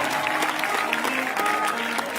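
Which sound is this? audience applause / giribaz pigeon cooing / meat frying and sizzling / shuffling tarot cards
audience applause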